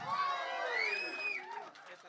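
Audience at a film teaser launch event cheering, whooping and applauding, a loud sustained crowd roar with shouts rising over it, then easing to scattered claps and calls.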